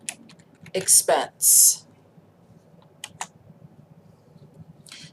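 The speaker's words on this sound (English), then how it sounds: "we are going to type target March" A computer keyboard is typed on in short bursts of clicks, with a few isolated keystrokes, while a voice speaks briefly over it.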